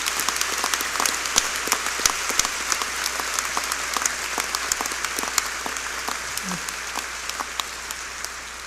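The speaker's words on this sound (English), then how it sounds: "Let's all give a round of applause for these teachers." An audience at a 2010 honors convocation applauds its teachers, a dense, sustained burst of many hands clapping that fills the hall and slowly tapers off.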